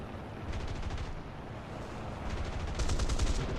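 Tank gunner firing rapid bursts in War Thunder on PlayStation 4, a dense rattle of automatic shots over heavy engine rumble, growing louder toward the end.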